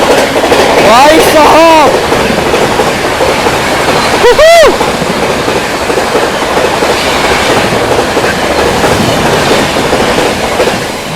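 The New Delhi–Dibrugarh Rajdhani Express thunders past at full speed close by, a loud rolling clatter of wheels with horn blasts, while someone speaks briefly over it.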